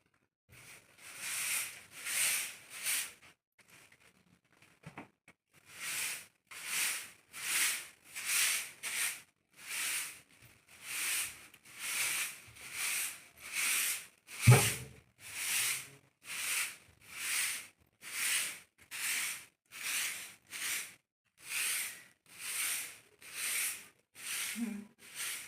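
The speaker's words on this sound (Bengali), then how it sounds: "এবার আমি রুমটা ঝাড় দিয়ে নেবো।" A broom sweeps the floor of a room in steady, rhythmic strokes, a long run of soft brushing swishes with a short pause near the start and one brief thump midway.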